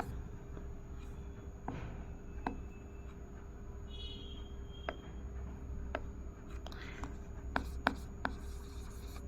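Pen or chalk writing during a chemistry lesson, scattered short scratches and taps over a steady low hum, quiet and close, with no talking.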